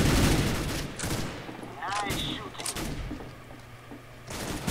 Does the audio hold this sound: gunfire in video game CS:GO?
yes